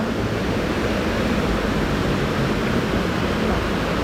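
Steady, continuous rushing water with a broad, even hiss and no breaks, from a stream flowing beside a mountain homestay in a Thai coffee-growing village.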